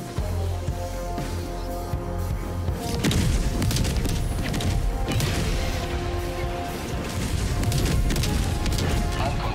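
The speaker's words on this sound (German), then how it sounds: "So schöne Explosion" A loud, sustained explosion in Helldivers 2 rumbles with crashing debris and booming impacts, dense and chaotic throughout.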